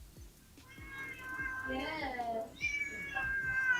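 A cat meows repeatedly in drawn-out, wavering cries, loud and close, as a voice speaks over and between the calls.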